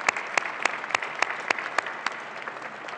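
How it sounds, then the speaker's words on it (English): An audience at an award ceremony applauds, steady mid-level clapping from a crowd with several sharp, close individual claps punctuating it throughout. "Let's give Bob a big round of applause"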